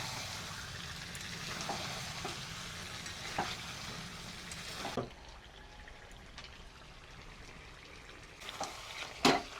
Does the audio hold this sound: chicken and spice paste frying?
yes